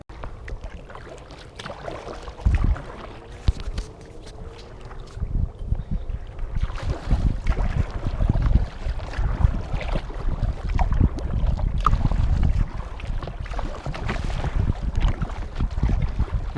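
Choppy waves slap and splash against a kayak on the Vistula river, a steady run of irregular watery knocks close by, with wind rumbling across the microphone throughout.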